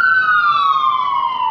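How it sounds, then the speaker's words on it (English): Ambulance siren wailing loud and close in a continuous falling tone, alone without talk. "that was an ambulance"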